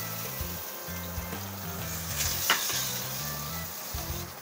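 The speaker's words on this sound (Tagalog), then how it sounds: "Gigisahin na natin ang ating sibuyas hanggang maging translucent." Onions sautéing in pork-frying oil in a pan, a steady close sizzle with a low bubbling rumble running throughout and no talking.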